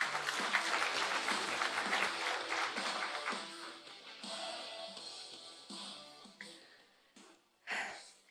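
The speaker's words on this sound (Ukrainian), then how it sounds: "я хотів би запросити сюди на сцену е, заступницю міністра Міністерства економіки України Тетяну Бережну під ваші оплески" Applause from an audience at a Ukrainian Ministry of Economy grant presentation as a deputy minister is invited on stage, dense and sustained at first, then thinning into scattered claps before a short final burst.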